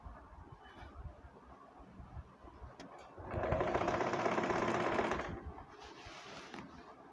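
A sewing machine stitches a panel skirt, its needle whirring in a steady mechanical run that swells louder for a couple of seconds mid-clip before easing back, with no talking.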